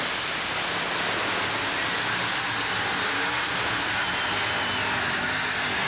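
Monster trucks racing at a 1990 USHRA event in San Diego, including a short-wheelbase Jeep, their engines giving a constant, heavy roar that blends with a broad noise wash; steady and unbroken for about six seconds.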